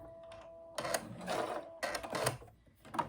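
A sewing machine stitches a zigzag buttonhole on a Duke jacket, with faint motor hum followed by three louder bursts of rapid stitching separated by brief pauses.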